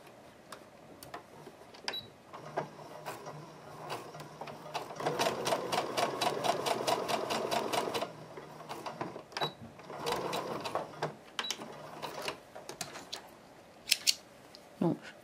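A sewing machine runs in several bursts of rapid, even stitching, joining a red hexagon patch to another fabric piece from one marked line to the next, close and clear, with short pauses and small handling clicks between runs.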